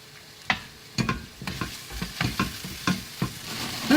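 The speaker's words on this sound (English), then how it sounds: "to the sweating onions we add 2 cloves of minced garlic" Onions and two cloves of minced garlic sweating in a pan, a low sizzle under a run of regular scraping stirs, about eight strokes in four seconds, close and fairly loud.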